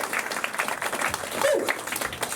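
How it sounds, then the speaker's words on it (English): A crowd at a comedy and magic show applauds a volunteer, brief and uneven clapping that comes and goes in loose bursts with a hum of chatter underneath. "Give her a round of applause for helping out."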